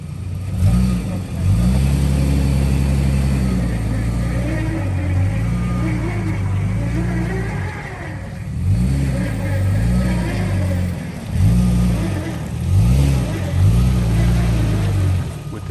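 A Ford F-150 stuck in soft mud revs its mid-pitched engine hard in repeated surges, rising and falling in pitch over a steady loud drone, with voices talking over it.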